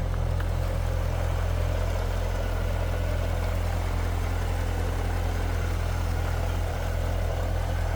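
A 2016 Chevrolet Corvette Z06 with a 6.2-liter LT4 supercharged V8 idles smoothly and steadily, a close, constant low rumble with no revving and no talk.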